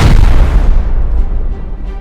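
An HV rocket from a launcher in a survival game detonates with one loud, close boom whose heavy rumble fades over a couple of seconds.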